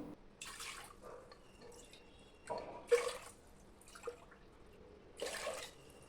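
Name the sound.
water poured into cooker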